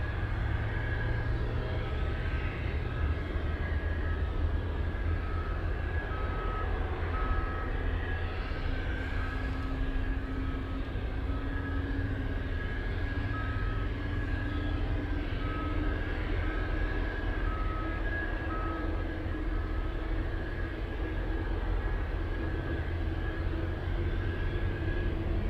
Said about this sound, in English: So we have all arrivals landing in front of us on 15.